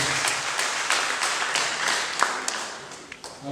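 Another round of applause from a church congregation at a wedding service, many hands clapping in a continuous crackling wash with a few sharper individual claps standing out, a voice faintly underneath.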